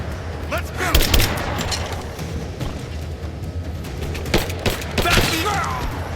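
Gunfire crackles in bursts during a firefight in Rise of the Tomb Raider, with sharp volleys near the start and again toward the end over a steady background, while in-game voices shout.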